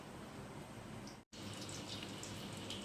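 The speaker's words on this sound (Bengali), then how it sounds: "এখন অর্ধেকটা দিলাম ভাজতে, এক পিঠটা হোক, গ্যাসটা কম করে দিয়েছি।" Pakoras frying in oil on low gas give a steady, soft sizzling hiss with a brief dropout in the middle, and no voices are heard.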